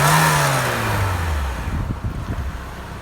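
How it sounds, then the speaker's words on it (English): A Saab 9-3 SportCombi 2.0 T engine revs up close by, its pitch falling back as the throttle is released, then settles into a rough, uneven idle. "Let's rev it up a little bit."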